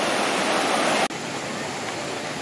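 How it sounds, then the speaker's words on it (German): Rushing river, the Isonzo in Slovenia, a steady loud broadband roar of fast-flowing water with a brief dip partway through, heard close by. "Unglaublich toller Fluss."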